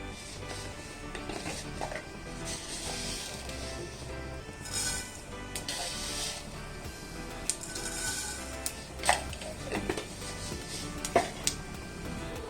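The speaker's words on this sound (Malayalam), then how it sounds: "ഇപ്പോൾ കടുക് പൊട്ടിയിട്ടുണ്ട്" Mustard seeds splutter and pop in hot coconut oil in a pan, with scattered crackles and occasional sharp pops over a low sizzle, alongside faint utensil clinks.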